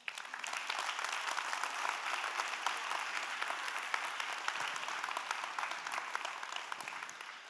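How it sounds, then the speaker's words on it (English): An audience at a European business support network conference applauds at an opening session. The clapping is dense and steady, moderately distant, and fills the whole stretch without a voice over it. "a round of applause to yourselves"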